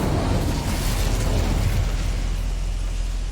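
Incendio fire spell cast in the Hogwarts Legacy video game, a steady roaring, whooshing burst of flame that stays loud and dense throughout with no voices.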